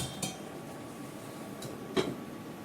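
A metal lid clinks twice onto a pot of cooking fish, two brief quiet knocks separated by a near-silent kitchen stretch.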